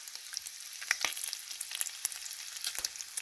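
Bacon sizzles and crackles in a pan, a steady close hiss studded with quick pops and spits throughout, with no voices.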